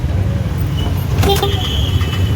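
Heavy road traffic on a crowded street during the Ganesh Chaturthi festival, a steady low rumble of engines close by, with a brief passing clatter and faint higher tones partway through.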